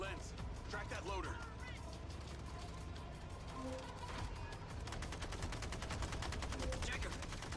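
Gunfire in the video game Mindseye, scattered shots and bursts mixed into a dense, continuous game soundscape of effects and music, with voices talking over it.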